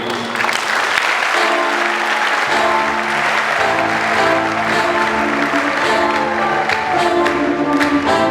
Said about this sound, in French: j'invite la communauté à l'applaudir